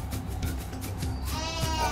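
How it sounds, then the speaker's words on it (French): Sheep bleat in the video game Final Fantasy XIII-2, a few short wavering calls over a steady low game ambience, fairly faint and with no talk. "Encore les petits moutons, d'accord, le cri est très réaliste"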